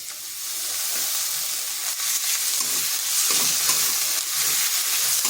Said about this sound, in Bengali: এটাকেও একটু ভেজে নিচ্ছি যাতে আদা রসুনের গন্ধটা চলে যায়।